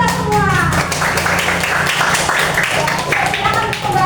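Children in an Indonesian classroom clap in a rhythmic group chant, steady patterned claps under loud chanting voices and a teacher's talk throughout.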